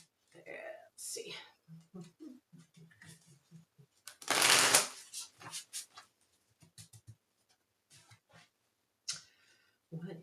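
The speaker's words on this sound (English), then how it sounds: "So let me give it a couple more shuffles." Tarot cards being shuffled close to the microphone, one loud riffling burst in the middle amid soft card handling and taps, with a person speaking quietly around it.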